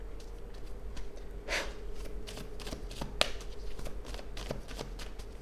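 Tarot cards are shuffled by hand up close, a soft riffling flutter with quick crisp snaps and taps running across the whole moment over a low background hum.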